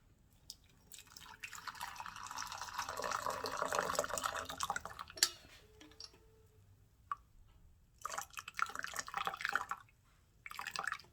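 Water pours steadily into a glass for a few seconds, then a clink, followed by another short pour and a few drips, close and quiet.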